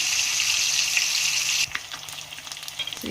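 Fish fillets fry in hot oil in a pan, a loud steady sizzle for the first half that suddenly drops to softer, crackling spits and pops, with no talking.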